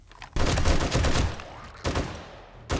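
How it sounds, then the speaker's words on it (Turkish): An M60 machine gun fired in the survival game 7 Days to Die: two loud, close sustained bursts of rapid automatic fire, the first about a second and a half, the second shorter, then a third starting, no talking. "M60 bu arada merminin mermi içiyor ya."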